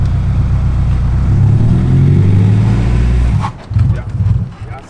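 A manual transmission car engine hums loudly at low revs as the clutch is released too fast without enough gas, then stutters and drops out abruptly before a few uneven, lurching bursts, with people talking over it.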